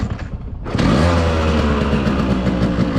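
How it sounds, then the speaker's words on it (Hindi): A Yamaha RX135 motorcycle around 25 years old is kick-started and its two-stroke engine catches abruptly, settling into a loud, steady, buzzing idle close by. "दोबारा किक मारते हैं।"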